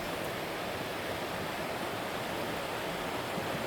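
Steady broadband rush of the Flathead River where its Middle Fork and North Fork meet, a constant close wash of flowing water with no breaks and no voices.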